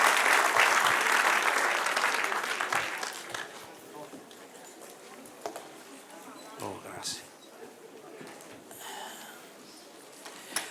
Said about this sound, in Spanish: Denle un aplauso al que reina y vive para siempre.